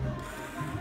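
An automatic washer/dryer project's compartment opens and clothes drop into the dryer, heard as a steady mechanical whir and rattle with no talking.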